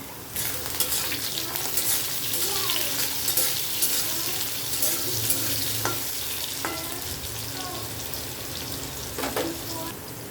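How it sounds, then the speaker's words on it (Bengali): Lightly salted potato pieces frying lightly in a pan, giving a continuous dense sizzle with scattered stirring scrapes and clicks throughout, close and fairly even in level. "আলুটাকে আমি আগে একটু হালকা ভেজে নেব।"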